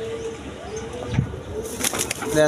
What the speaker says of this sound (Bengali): এগুলো খামারি কবুতর, একদম ছাড়া কবুতর আসলে দেখেন।